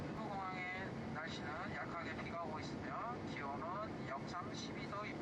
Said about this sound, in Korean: 김해 비행장에서 이제 활주로를 아주 빠르게 지금 속력을 내서 남쪽을 향해서 비행기가 출발합니다